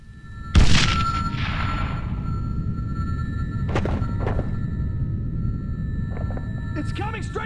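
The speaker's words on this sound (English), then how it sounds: "Incoming missile!" A missile blast in the video game Sniper Ghost Warrior 2 hits as a single loud, close boom, then leaves a long rumbling tail under steady in-game noise, with a few faint thuds and voices later on.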